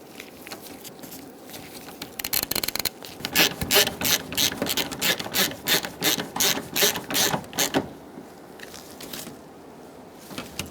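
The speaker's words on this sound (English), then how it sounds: "Get the bolts started and snug them down." A ratchet snugs down condenser bracket bolts on a 2010-2014 Subaru Outback, a run of rhythmic clicking strokes close up, starting quickly then slowing, with quieter handling noise before and after.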